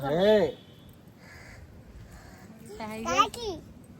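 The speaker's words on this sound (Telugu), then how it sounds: "టైగర్ పట్టుకుని కాకి చూస్తుంది." A crow caws a couple of times, harsh and fairly close, with quiet background gaps in between.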